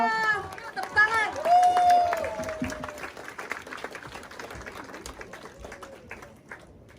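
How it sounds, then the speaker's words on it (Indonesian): Audience clapping in welcome as Prof. Olaf is called up on stage at an event, a broad wash of applause that swells early and tapers slowly, with a voice speaking over the start. "Tepuk tangan"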